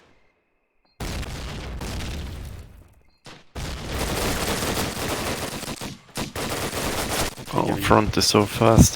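Grenade blasts and bursts of gunfire in the World War II shooter Call of Duty: United Offensive during a competitive match, loud and repeated after a brief silence, with short gaps between volleys and a voice talking over the action.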